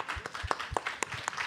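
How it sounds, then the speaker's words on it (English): Audience applause after a panel speaker is thanked at a public event on European funds, a dense patter of hand claps with a few sharper claps standing out, steady and fairly close over the short stretch. "Round of applause."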